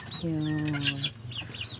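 A free-roaming chicken clucks with a drawn-out, tonal call followed by shorter clucks, fairly close, with faint background chatter.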